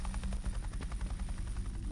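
Helicopter in a video game, a steady rotor thump pulsing continuously at moderate loudness, with no talk over it.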